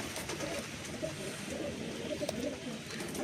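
A pair of Mechua Gola pigeons coo softly in a quiet loft, low repeated murmuring calls over faint background noise.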